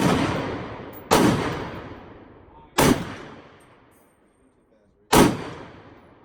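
Three loud, sharp rifle gunshots from a custom AR build at an outdoor range, fired close by at uneven intervals, each followed by a long echoing decay.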